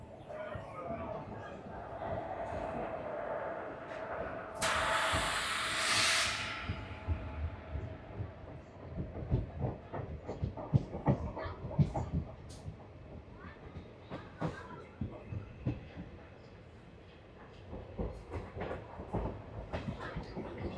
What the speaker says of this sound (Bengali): আমাদের ট্রেন ছেড়ে দিল কাটোয়া জাংশন।